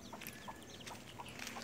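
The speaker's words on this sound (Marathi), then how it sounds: "आणि इकडे कोंबडी वगैरे आहेत." Chickens cluck softly in a yard at a distance, with short, scattered calls over a steady, noisy outdoor background.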